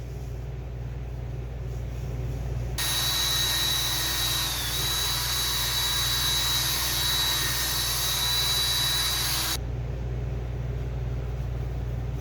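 A Powerball drill attachment polishes the sand scratches out of an aluminum wheel, giving a steady high whine that starts after a few seconds, runs continuously for about seven seconds, then cuts off over a constant low hum.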